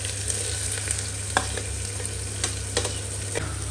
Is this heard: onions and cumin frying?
yes